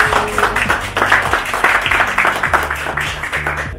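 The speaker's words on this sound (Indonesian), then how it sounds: "boleh kasih tepuk tangan secara virtual Mr. Galvin Yong." Virtual-event applause with steady clapping across the whole stretch, moderately loud, after a host invites the audience to welcome a beverage entrepreneur.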